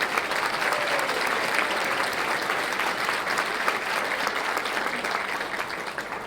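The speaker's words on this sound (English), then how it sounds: "please help me give her a round of applause for joining us." An audience at a 2020 education awards ceremony gives sustained, even applause to the evening's MC, a dense wash of clapping with no voices over it.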